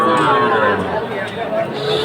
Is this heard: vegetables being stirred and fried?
no